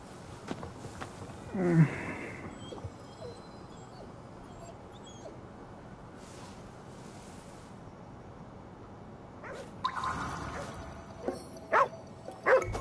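A dog in Ghostwire: Tokyo gives a brief whimper and bark early on and a few more yips near the end, with quiet ambient game sound between and no clear talk.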